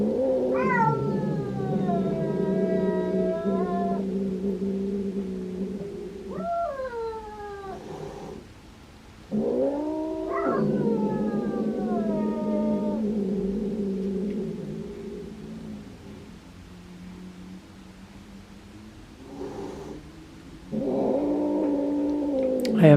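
A cat hisses and yowls in long, drawn-out caterwauling wails during a tense encounter between rescued cats meeting indoors, the loud growling cries rising and falling in several extended bouts with short pauses between them.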